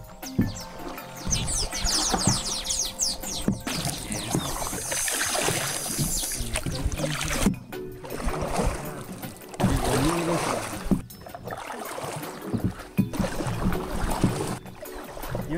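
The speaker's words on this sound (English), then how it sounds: "In a dugout wooden canoe on Lake Mutanda." A dugout wooden canoe moves across Lake Mutanda in Uganda, with steady close water swishes and paddle splashes, broken by brief pauses.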